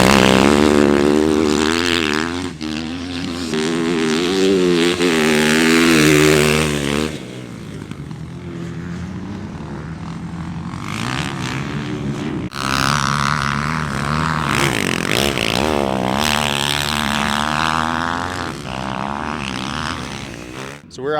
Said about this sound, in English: We're doing our intro ride on the 2025 YZ450F.